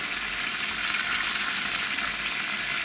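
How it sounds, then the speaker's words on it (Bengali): Turmeric and chili powder fry in hot oil for beef khichuri, giving a steady, dense sizzle that holds close and even throughout with no talk. "মরিচের গুঁড়ো, এটা কাঁচা গন্ধ যেন চলে যায়, এই জন্য ভালো করে ভেজে নিব।"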